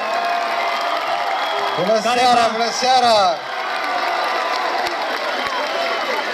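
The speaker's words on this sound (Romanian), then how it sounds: "Hai să-l primim cu aplauze pe domnul primar" An outdoor crowd at a May Day concert in Bucharest's Plumbuita park cheers and applauds the Sector 2 mayor, a steady roar that swells briefly while a man greets the audience over a microphone.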